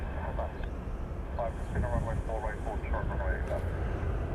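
A four-engine C-17 jet roars on a runway at Honolulu airport, a broad steady engine noise with talk over it.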